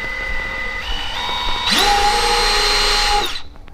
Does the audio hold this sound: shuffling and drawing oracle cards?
no